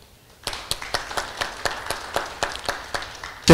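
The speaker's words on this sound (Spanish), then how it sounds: "aplausos por favor." Audience applause at the closing ceremony of a university chess championship in Puno: a short burst of clapping with about a dozen sharp, evenly spaced claps rising after a quiet start, moderately loud and close.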